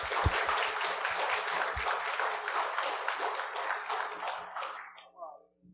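An audience at a tech conference session applauds the presenter, a brisk burst of many hands clapping that thins out and fades away near the end.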